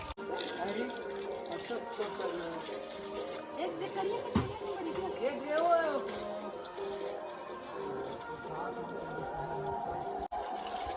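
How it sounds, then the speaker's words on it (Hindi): Water runs from a pipe while a tractor is being washed, a steady splashing hiss in the background beneath nearby voices talking, with some knocks and clatter. "अब धोबो यार पानी वानी भी चालू कर दे रहे"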